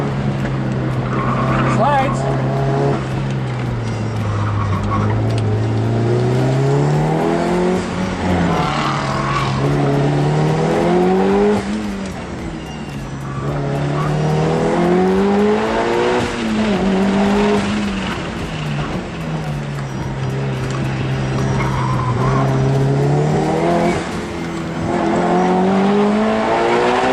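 A Mitsubishi Evo 9 sliding through an autocross course, its engine revving up and down in repeated sweeping surges with tires squealing as it skids, loud and continuous, with a voice speaking over it.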